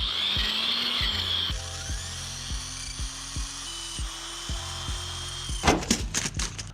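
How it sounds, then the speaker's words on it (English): A power drill bores out holes in aluminum jon boat struts to fit 3/16 rivets, a sustained high whine with a regular series of sharp catches and knocks as the bit bites, ending in a rattling burst near the close. "You're gonna have to drill out these holes too."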